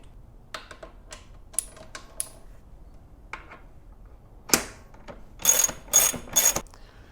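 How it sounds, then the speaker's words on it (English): Ratcheting wrench clicks tightening the rear axle nut on a Kawasaki Ninja 1000 motorcycle with a 12mm tool, scattered short mechanical clicks and clacks, then a faster burst of ratchet pulls near the end, close and fairly quiet with no talk. "then we're going to tighten the rear axle nut on the right side with a 12mm"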